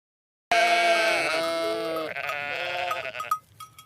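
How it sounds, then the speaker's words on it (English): A single sheep gives one long, wavering bleat, close and loud, lasting about three seconds and fading out with no other sounds around it. "It's a sheep."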